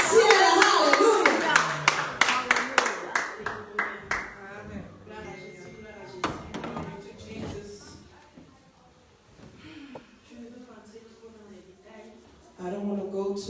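A church congregation applauds with dense rapid clapping at first, tapering off after a few seconds, followed by a singer's voice and talk over a quieter background.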